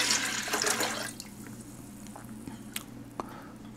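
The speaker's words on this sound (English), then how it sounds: "I've poured in my juice" Ginger and lime juice is poured into about half a gallon of water, giving a brief gushing splash that tails off into soft trickles and a few drips, close and quiet.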